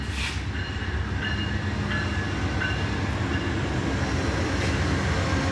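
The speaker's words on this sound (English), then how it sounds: "We're gonna see a train." A train rumbles steadily nearby with a constant low roar and faint metallic squeaks, no voices.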